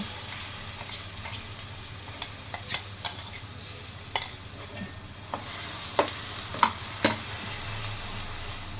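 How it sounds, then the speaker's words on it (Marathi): Ground green masala paste being stirred and roasted in a pan for a green moong gravy, with a steady low sizzle and scattered scraping clicks of the spoon, growing slightly louder toward the end. "आता ह्याच्यामध्येच आपल्याला छान एकदम भाजून घ्यायचा आहे तो."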